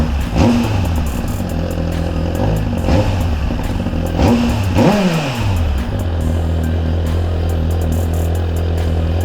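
A 2023 Suzuki GSX-R1000 sport bike engine revs up and falls back in several bursts over a steady idle, loud and close, with clattering mechanical noise throughout and no talk.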